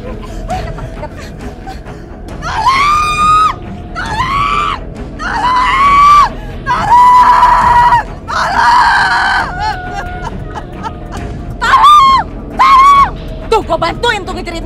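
A woman screams again and again in a dramatized scene, with loud wails and shrieks in bursts over roughly fifteen seconds and other voices talking between them.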